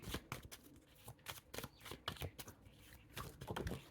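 Tarot cards are shuffled by hand in a run of quick, close riffling bursts and soft slaps, each a few fractions of a second apart, with no talking.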